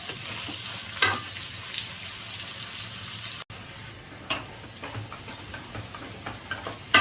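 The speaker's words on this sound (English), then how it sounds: "I've been frying the onions on high flame" Onions frying on a high flame while being stirred continuously, a steady close sizzle with scattered ticks and clinks of the spoon against the pan; no talk.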